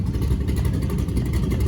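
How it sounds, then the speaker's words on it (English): A drag racing car doing a burnout at a drag strip, a loud sustained low engine roar with tire rumble filling the short moment, heard from nearby. "Oh, look at that burnout."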